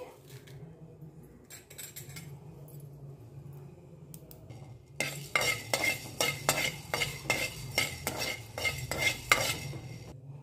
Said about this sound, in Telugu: స్టవ్ మీద కడాయి పెట్టుకొని ఫస్ట్ ధనియాలు వేయించుకోవాలండి.